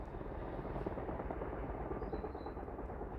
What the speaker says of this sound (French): il y a des hélicos qui font des balais depuis ce matin, là, derrière, là.